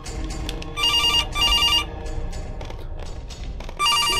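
A telephone rings in a horror video game, sounding as repeated bursts of a bright electronic trill over a murky, rumbling game background.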